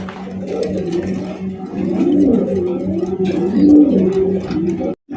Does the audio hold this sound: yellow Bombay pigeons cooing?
yes